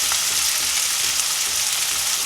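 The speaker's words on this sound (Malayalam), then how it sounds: "ഇനി നമുക്ക് സവോളയും നമ്മുടെ പച്ചമുളകും ഇടാം." Onions and green chillies frying in a hot pan for egg cutlets, a steady dense sizzle with faint stirring scrapes, close and continuous with no talk.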